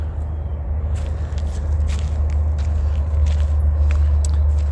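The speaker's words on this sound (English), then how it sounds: "you can hear the traffic running in the background" Distant road traffic runs in the background on a rural roadside, a steady low rumble and hum with faint scattered crackles and scrapes nearby.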